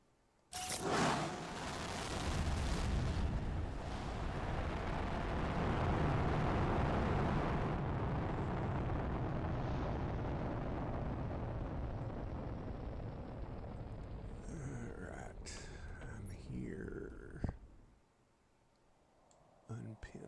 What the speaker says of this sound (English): That's not a bad rocket to set off either.